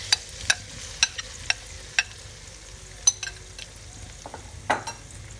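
Chicken sautés in a pan with a low, steady sizzle beneath a series of sharp, regular clinks of a utensil against the pan, followed by a brief scraping stir near the end.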